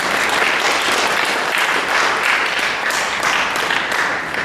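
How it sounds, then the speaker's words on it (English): A crowd applauds at an Iowa county fair, dense continuous clapping held at a steady level from start to finish. "Give them a round of applause, everybody."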